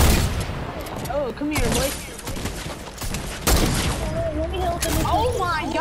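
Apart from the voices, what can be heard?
gunfire in the video game Fortnite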